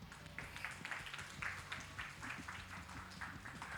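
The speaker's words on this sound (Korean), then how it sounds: "뜨거운 박수로 감사의 마음을 전하겠습니다." Applause from a Korean high school church youth group at a Sunday worship service, a steady crowd clapping with quick rhythmic bursts throughout, moderately distant in a hall.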